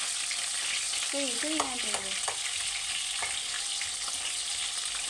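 Onions fry for a Telangana bitter gourd dish in a steady, close, hissing sizzle with light stirring scrapes, while a voice briefly speaks over it.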